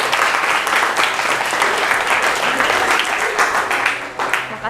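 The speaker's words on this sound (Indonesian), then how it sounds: "Tepuk tangan sekali lagi." Classroom of students clapping for a group after its presentation, a lively, slightly uneven round of applause from a roomful of hands, with a voice faintly underneath.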